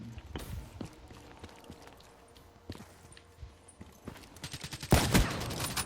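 Gunfire in the Black Ops 3 beta: rapid bursts of shots and sharp impacts, loud and close, with a dense volley near the end and no voices.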